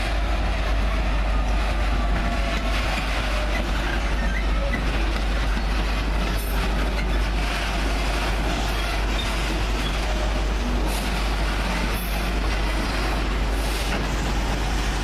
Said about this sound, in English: straight away we've got a freight hauled by a DB Schnettler class 66